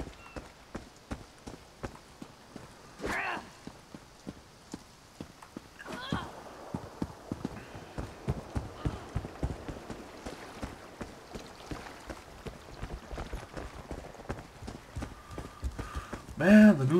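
Horse hooves in Elder Scrolls Online, an imperial horse clip-clopping at a steady walking rhythm, fairly close, with a few louder game sounds and a brief whinny-like burst near the end.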